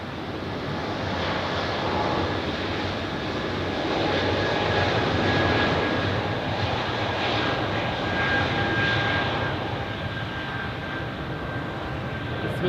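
Airliner jet engines at Zurich Airport rumble and roar continuously at close range, a steady broadband drone with a whining tone that swells slightly midway and stays loud throughout.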